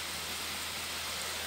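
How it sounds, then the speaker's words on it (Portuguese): Rain falling steadily, a dense even hiss of drops with no breaks and no voices. "Tá chovendo de tarde, você já reparou?"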